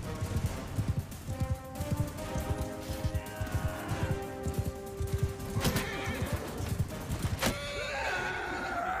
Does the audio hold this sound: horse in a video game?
yes